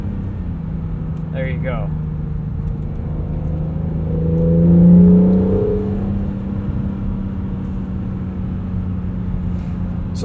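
A 2017 Acura NSX engine drones steadily with a smooth rising swell as it accelerates and shifts, heard from inside the cabin beneath a voice speaking briefly.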